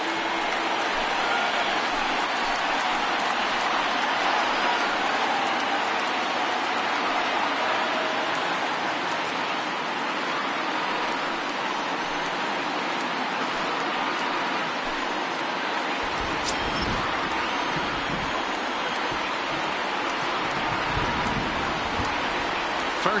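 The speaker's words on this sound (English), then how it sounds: "the rain starting to intensify here. It's coming down a little heavier now." Continuous broadband wash of heavy rain in the baseball video game MLB The Show 19, intensifying into a steady downpour, with a brief sharp click partway through and no speech.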